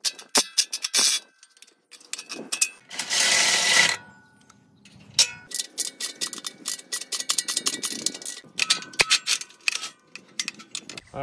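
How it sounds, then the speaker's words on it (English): Half-inch bolts come off the muffler of a Can-Am X3 with a string of sharp metallic clicks and ratcheting bursts, close and loud, broken by a short continuous whir of a tool and brief pauses. "So we'll go ahead and get those removed."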